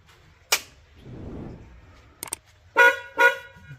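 Two loud, harmonic tractor horn honks from a Belarus 80 MTZ sound close together near the end, preceded by a sharp clack and a low rumble.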